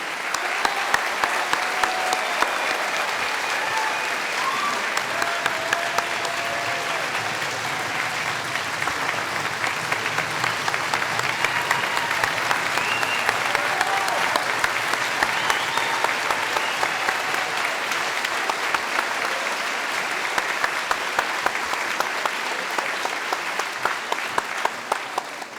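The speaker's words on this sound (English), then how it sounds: "Let's give them one round of applause, please." At a Beethoven-meets-mariachi concert, a large audience applauds in a long, sustained ovation of roughly twenty-five seconds, a dense, even roar of clapping with no speech.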